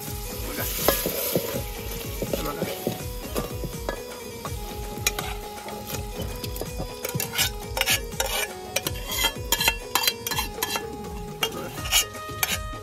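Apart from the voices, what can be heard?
stirring boiled mutton into masala in a pot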